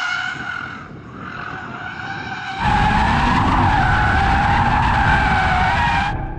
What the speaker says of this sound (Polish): Jestem w Audi RS3 i próbuję driftować sobie w nim.